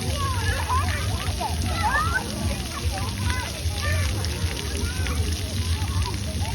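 Continuous splashing and sloshing of water at a splash pad with children's voices and chatter mixed in, lively and close by.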